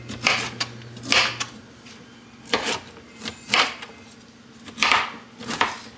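A knife rough-chopping cauliflower on a cutting board, about eight sharp, irregular thuds with short crumbly crunches, close and clear over a faint hum, no speech.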